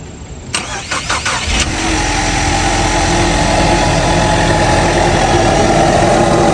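A Ford Mustang engine cranks with a few quick stutters, catches, and settles into a loud, steady idle rumble close by.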